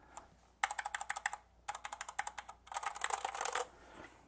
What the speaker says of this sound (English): And then I will put the keycap back on.